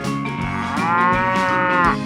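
A cow moos in a 3D animal video game: a single long, loud, drawn-out moo lasting about two seconds, close and clear with no talking over it.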